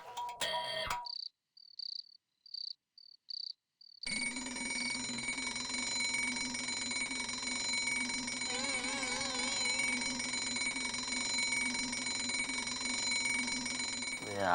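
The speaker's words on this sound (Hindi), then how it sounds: "अलार्म रख के खुद सो रही है।" Alarm clock beeping in short, rapid pulses for a few seconds, then a loud, continuous ringing that persists steadily and close, filling the room.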